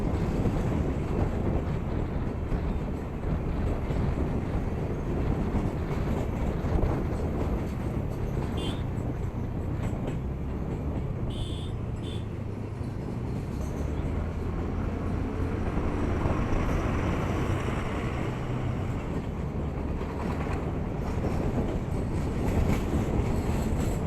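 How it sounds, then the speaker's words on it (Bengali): A train rolls past on railway tracks beside a road during a long scooter ride, a steady rumbling roar of wagons mixed with heavy wind buffeting, moderately loud with no speech. "বলতে বলতে অলরেডি ট্রেন যাচ্ছে।"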